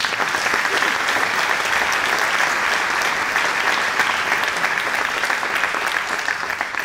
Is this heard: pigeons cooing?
no